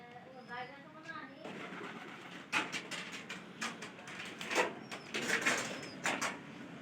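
Pigeons perched on a bamboo pole give soft, low coos near the start, followed by a few sharp taps and rustles in a quiet setting.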